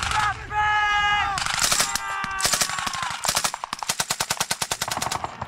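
Rapid automatic gunfire rattles loudly and close during a 1968 Vietnam battle reenactment, with sustained bursts that turn into a dense, fast run of evenly spaced shots toward the end, mixed with some shouting.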